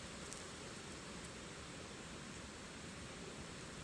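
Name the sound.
Silver Pass Creek water flowing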